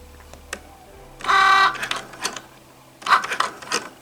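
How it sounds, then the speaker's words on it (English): A Cricut Joy cutting machine runs while cutting a card, giving a close whirring, buzzing motor burst with short mechanical rattles and a second active stretch near the end, in a quiet room. "Go, Cricut Joy, go!"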